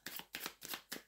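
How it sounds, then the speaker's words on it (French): Tarot cards being shuffled in four quick riffling bursts, close and crisp, with no talk over them. "je vais rajouter une carte sur"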